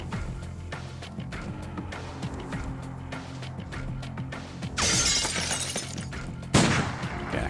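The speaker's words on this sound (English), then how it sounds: "Just the sound of smashing glass across." Glass shatters in the Urban Strife turn-based tactical game, a bright crashing burst that rings out and then a second sharp smash follows, both loud over a low droning background.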